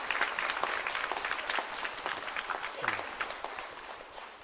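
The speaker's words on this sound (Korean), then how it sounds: "박수 치시려면 확실하게 치시고" Audience applause in a Korean lecture hall, a steady dense wash of clapping that holds at an even level throughout, close and continuous with no talking over it.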